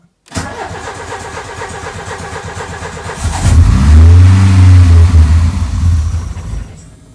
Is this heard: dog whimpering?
no